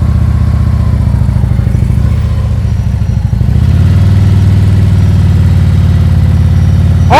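A motorcycle engine holds a steady, loud, close idle-like rumble during slow-speed riding skills practice, with a slight dip before settling into an even drone.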